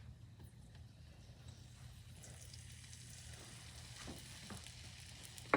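Ginger sizzling in a hot pan over medium-high heat for seafood ramen, a faint continuous frying hiss over a low hum, with a sharp clack at the very end.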